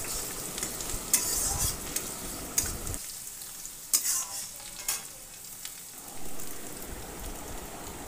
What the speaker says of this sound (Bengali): দিয়ে দিলাম যে রসুনগুলো লম্বা লম্বা করে কুচিয়ে রেখেছি, দিয়ে দিলাম। দিয়ে ভালো করে নেড়ে চেড়ে নিলাম